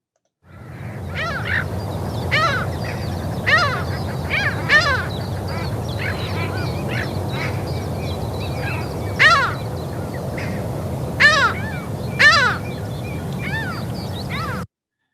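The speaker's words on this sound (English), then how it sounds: "So the Mediterranean gulls have become another sound of spring." A flock of Mediterranean gulls calls in spring at a coastal nature reserve. Repeated nasal, yelping cries overlap, with some calls close and loud and others farther off, above a constant murmur of background birds.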